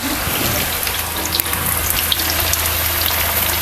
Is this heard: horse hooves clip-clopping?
no